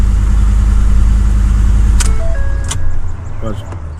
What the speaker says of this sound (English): Sounds like the starter is on making noise though.